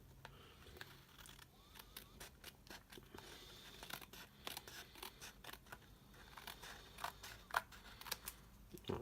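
Card stock cut down by hand with scissors during card making, a run of sharp snips and crisp paper rustles, close and quiet, irregular rhythm with no speech.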